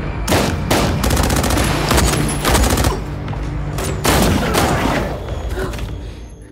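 Loud, dense gunfire in an action-film shootout at a warehouse, with rapid automatic bursts and single shots overlapping in sustained volleys, separated by brief gaps.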